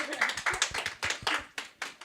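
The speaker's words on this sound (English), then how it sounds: "Thank you for clapping." Clapping from a small audience, a handful of distinct, fairly quiet claps in an uneven rhythm, picked up with some distance in the room.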